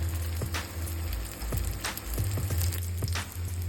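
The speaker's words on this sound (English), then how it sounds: "Next, we deep fry the lumpia" Fish lumpia deep frying in hot oil, a dense continuous sizzle with scattered pops and crackles, close and steady throughout.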